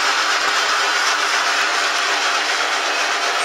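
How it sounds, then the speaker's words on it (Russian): A homemade generator spins on a test stand with an adjustable load, giving a loud, steady broadband whir that holds even throughout with no talking. "В данный момент тестируем этот генератор."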